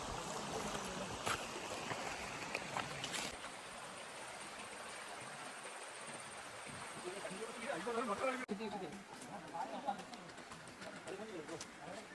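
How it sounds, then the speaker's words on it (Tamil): A steady rush of water from Tada waterfall in Andhra Pradesh fills the background, with pigeons cooing nearby and occasional voices over it. "தண்ணி வந்து ஃபால்ஸ்லேருந்து வந்துட்டு இருக்கு."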